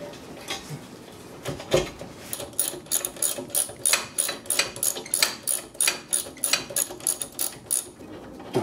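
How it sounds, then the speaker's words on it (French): Small 1/4-inch ratchet turning a large Phillips screw during rubber axle-boot replacement on a 2006 Mercedes C200 CDI, a close run of rapid metallic clicks in repeated bursts with short pauses between strokes, no talking. "je le mets sur un petit cliquet, c'est du 1/4"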